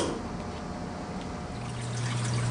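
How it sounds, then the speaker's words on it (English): Water runs steadily into the trough of a Manitowoc Neo ice machine during its cleaning cycle, a continuous close trickle and pour with a low filling tone rising near the end. "It'll take a moment for the water trough to fill"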